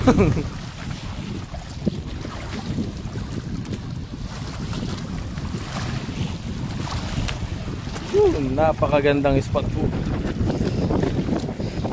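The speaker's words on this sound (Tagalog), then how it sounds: "Pasensya na po kayo sa hangin. At medyo mahangin po." Strong wind buffets the microphone in a constant low roar by the sea, with someone speaking briefly near the end.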